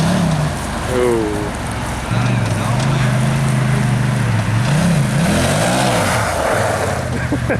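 A turbocharged side-by-side off-road vehicle accelerates in repeated surges, engine pitch climbing and dipping through several rises with turbo whine, heard close from the cab while people talk over it.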